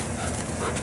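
A police K-9 dog pants rapidly and close by, a brief burst of breathy huffs with no voices.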